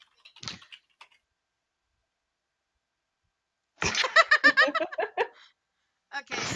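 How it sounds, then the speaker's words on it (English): A keyboard clatters in a quick, close burst of keystrokes, with a few isolated taps before a long pause, then another short flurry near the end. "Rena's typing."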